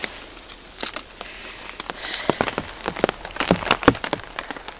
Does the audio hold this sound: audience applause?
no